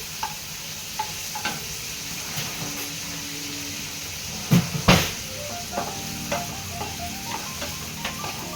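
Icha korola ingredients frying lightly in a pan, a soft steady sizzle with occasional light taps and stirring scrapes and one louder clatter midway, close and otherwise calm with no voices.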